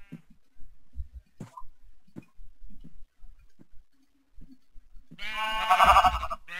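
Sheep bleating in the Minecraft video game, a loud burst of several overlapping bleats near the end after a stretch of faint clicks and movement sounds.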